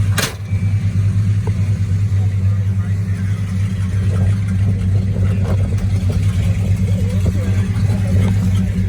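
A 1969 Mopar B-body Roadrunner's engine rumbles steadily while driving on the road, a continuous low drone heard from inside the car with no breaks.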